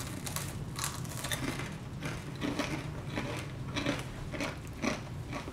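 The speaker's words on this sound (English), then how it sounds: "You hear that crunch?" Crunchy bites into a Taco Bell rolled chicken taco, with repeated close crackling crunches and chewing at a steady rhythm, and no talk over them.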